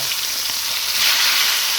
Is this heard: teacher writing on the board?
no